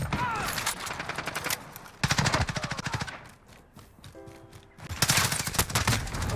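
Rapid bursts of automatic fire from an M13 rifle in Call of Duty Modern Warfare, loud and close, broken by a quieter reload pause before the shooting resumes.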